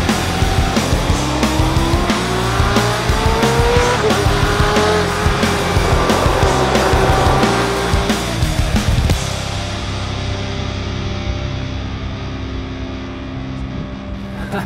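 A BMW M8 Competition coupé drives hard nearby, its engine roaring and rising through the gears with tire squeal, then settling to a steadier, quieter drone for the last few seconds.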